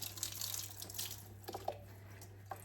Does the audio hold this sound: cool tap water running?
yes